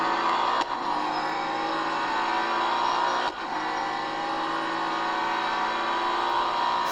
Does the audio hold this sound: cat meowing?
no